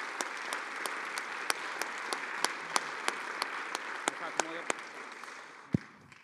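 Applause from a modest audience at a Tilburg University symposium, a steady patter of clapping hands with a few sharper individual claps, gradually fading toward the end.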